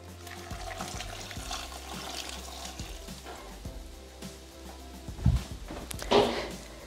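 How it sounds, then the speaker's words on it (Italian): Hot water is poured into a Thermomix bowl over zucchini, pepper, salt and vegetable stock cube, a soft steady splashing stream with a couple of louder splashes near the end. "e il resto dell'acqua calda."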